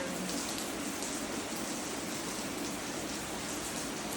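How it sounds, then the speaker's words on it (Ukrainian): Steady rain falls in the background as a dense, even hiss of drops that holds at constant loudness from start to finish, with no talk over it. "Ось тут падає дощ, е, зараз в мене звучить на фоні."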